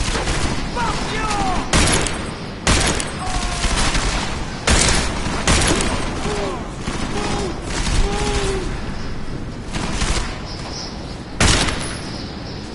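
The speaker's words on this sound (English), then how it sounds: "Lay down some cover fire!" Cover gunfire rattles through a firefight in the video game Deus Ex Mankind Divided, with repeated loud bursts and booms and mechanical clatter in between, while a voice shouts over the shooting.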